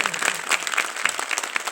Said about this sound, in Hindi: तो मैं चाहूंगा कि एक बार जोरदार तालियां सारी टीचर्स के लिए हो जाए।